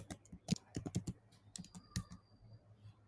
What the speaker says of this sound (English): let me just type command